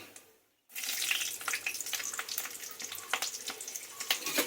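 Green chillies hit hot oil with panch phoron in a pan, and after a brief silence a loud crackling sizzle bursts out and keeps spitting and popping unevenly.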